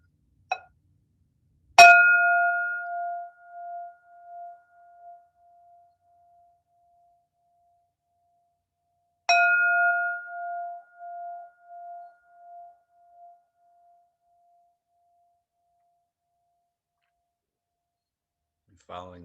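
A meditation bell is struck twice, several seconds apart, each strike ringing out as a clear, bright tone that fades slowly into near silence in a quiet room.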